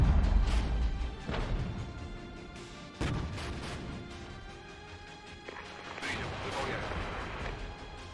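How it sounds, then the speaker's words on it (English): Artillery fire in the video game Regiments pounding defensive points: a series of booming impacts and crashes, some close and some farther off, spread across the stretch under a person talking. "I'm just using artillery here to break down these defensive points."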